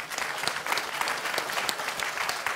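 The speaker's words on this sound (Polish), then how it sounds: "Wielkie brawa." An audience at a debate in a Warsaw theatre claps in sustained applause, with many hands making a crisp, busy patter at a moderate, even level throughout.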